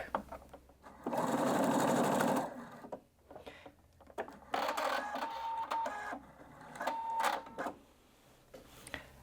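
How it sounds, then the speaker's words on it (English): A Husqvarna Viking Brilliance 75Q sewing machine stitches the closing bar tack of a buttonhole with a manual buttonhole foot, giving several close, loud bursts of rapid mechanical whirring separated by brief pauses. "I press the reverse button again and it will sew the final bar tack"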